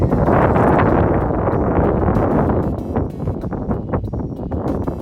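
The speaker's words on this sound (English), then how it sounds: "Yes, it is windy, very chilly out here." Strong, steady wind buffets the microphone in a continuous roar, easing slightly toward the end with gusty fluctuations.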